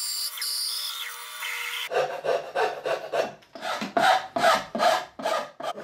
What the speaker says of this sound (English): rounding over the top of the vise, smoothing it out, as well as taking a little bit off the corner of the jaws